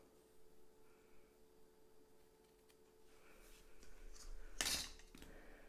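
Scissors snip ribbon tails on a handmade tapered treat box, one sharp close cut near the end after quiet handling, with a soft rustle following.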